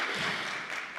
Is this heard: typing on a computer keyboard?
no